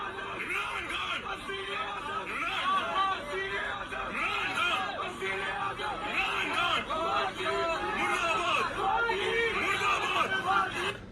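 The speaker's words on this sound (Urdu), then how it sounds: "یہ بالکل سٹیج کے قریب یہ نعرے لگے, اور ایک آدھا بندہ نہیں, پورا مجمع جو ہے وہ یہی نعرے لگا رہا ہے" A crowd chants political slogans near the stage at a rally at Minar-e-Pakistan, a dense babble of many voices, loud and sustained throughout.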